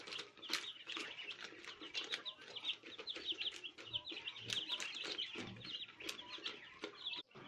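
Chickens kept together with quail in a home setup cluck and chirp continuously in a busy, close flock chatter that fills the whole stretch without talk.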